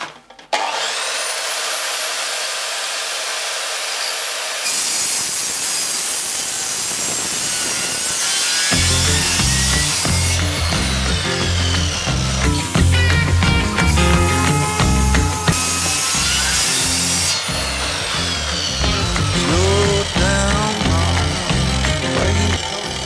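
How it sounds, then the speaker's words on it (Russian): A Revolt CS2800 circular saw whines up to speed, then bites into a 90 mm wooden beam, its high shriek turning into a loud, rough grinding cut that holds steady for several seconds with the motor straining, no talk. "сейчас попробуем, как справляется данная пила с этим брусом"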